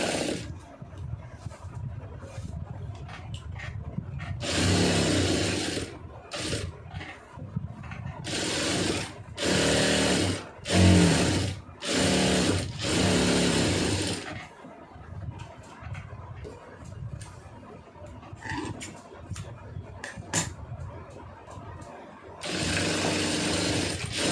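A sewing machine stitches the lining of a blouse in loud, close bursts of rapid mechanical running, broken by short pauses between seams.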